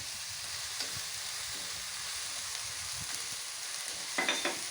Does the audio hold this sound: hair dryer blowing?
no